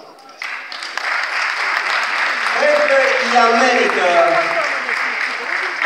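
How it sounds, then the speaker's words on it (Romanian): Applause from the audience at a children's festival, rising and filling the hall at a steady volume while a presenter talks over it. "aplauze dumneavoastră pentru curaj"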